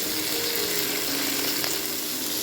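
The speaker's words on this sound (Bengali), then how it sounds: "ওই সবগুলো একসাথে ভেজে নেবো আমি" Green chili and onion fry with a little salt in a pan, giving a steady, close hiss and crackle that holds evenly from start to finish, with no talking.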